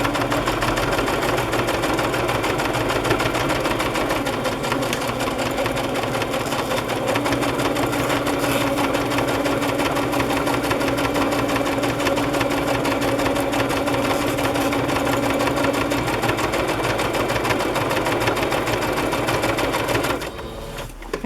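Sewing machine stitching a fabric journal cover, a loud, steady, rapid mechanical whir with a dense rhythmic needle chatter running continuously up close, easing off only at the very end.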